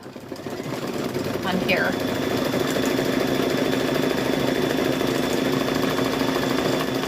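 An embroidery machine stitching a patch runs with a steady, rapid mechanical whir and buzz at an even pace, close by, with a brief voice near the start.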